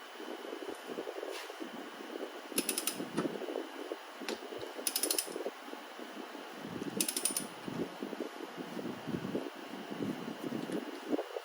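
A torque tool on a socket handle tightens the flywheel bolt of a Suzuki LT500R Quadzilla, with repeated quick ratcheting clicks in short bursts over faint mechanical rustle, close and fairly quiet.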